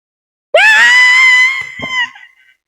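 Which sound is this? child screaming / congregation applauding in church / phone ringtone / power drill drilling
child screaming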